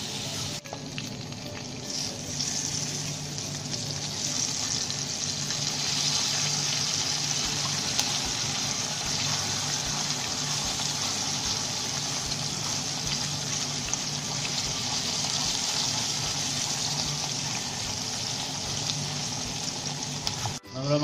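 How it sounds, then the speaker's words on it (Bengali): Koi fish frying in hot oil, a steady hissing sizzle that holds evenly for the whole stretch with no talk. "মাছগুলো ভেজে নিতে হবে।"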